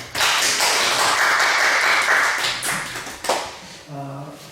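A church congregation breaks into a burst of applause, dense clapping that swells and then thins over a few seconds, with a brief voice rising near the end.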